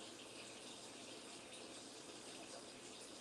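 Liquid poured from a pot into a pan during home dinner cooking, making a steady, continuous close rush of pouring and splashing that lasts throughout, with no talking.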